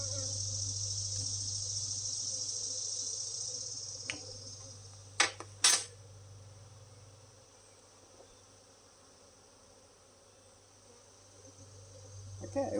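Honey bees hum around a hive frame as a steady low drone, fairly faint and constant, broken by a few sharp clicks and brief handling noises.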